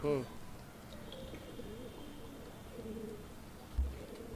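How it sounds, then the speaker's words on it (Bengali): A soft, low pigeon coo rises at the start, then quieter cooing with faint voices in the background and a dull thump near the end. "আমরা কবুতরটা ছাড়ি আপনারা দেখেন"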